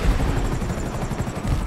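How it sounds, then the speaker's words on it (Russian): Helicopter in GTA 5 Online during a prison-break heist mission, a steady low rotor throb with rhythmic chopping pulses, loud and continuous with no voices over it. "Блин, вертушка, вертушка тут."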